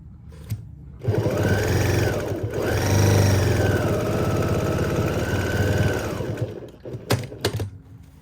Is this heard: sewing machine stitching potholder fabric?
yes